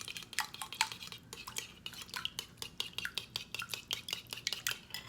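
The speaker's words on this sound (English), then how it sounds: "I'm going to just whisk it together" Egg and buttermilk whisked together in a dish, a quick run of close, rhythmic clicking and tapping of the whisk against the bowl, with no talk.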